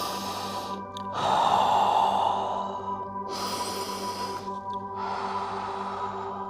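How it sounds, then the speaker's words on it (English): Slow, audible breaths during a deep yoga hip stretch in a vinyasa flow, two long airy exhalations separated by quiet pauses, close and unaccompanied by speech. "Taking a couple breaths."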